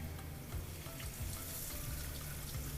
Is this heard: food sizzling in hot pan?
yes